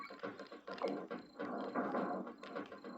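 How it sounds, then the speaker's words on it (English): Original SNES controller buttons click and clatter in quick, irregular bursts during Donkey Kong Country play, close to the microphone and fairly quiet. "the noises you can hear occasionally from my controller."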